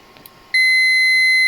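A French-made TTK liquid leak tester sets off its alarm, a loud, steady electronic beep tone that starts abruptly after a quiet moment and holds without a break.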